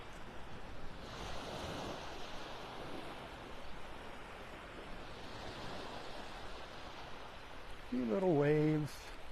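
Ocean surf rolls steadily onto the beach at Delnor-Wiggins in North Naples, Florida, on a morning walk, a continuous moderate wash of breaking waves; a voice speaks briefly near the end.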